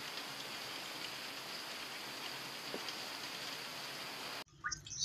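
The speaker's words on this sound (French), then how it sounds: "Ceci est mon bidon de récupération d'eau de pluie. Alors là, il pleut." Steady rain falls onto a rainwater collection barrel outdoors, a dense even hiss with scattered drip hits, continuous and fairly close, ending in a brief burst of handling noise near the end.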